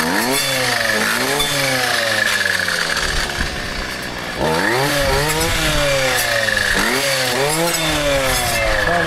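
Brushcutter mowing down brush around a spruce, its two-stroke engine screaming loud and steady, then briefly dropping in pitch and surging back up in repeated rising sweeps as the blade bites into growth.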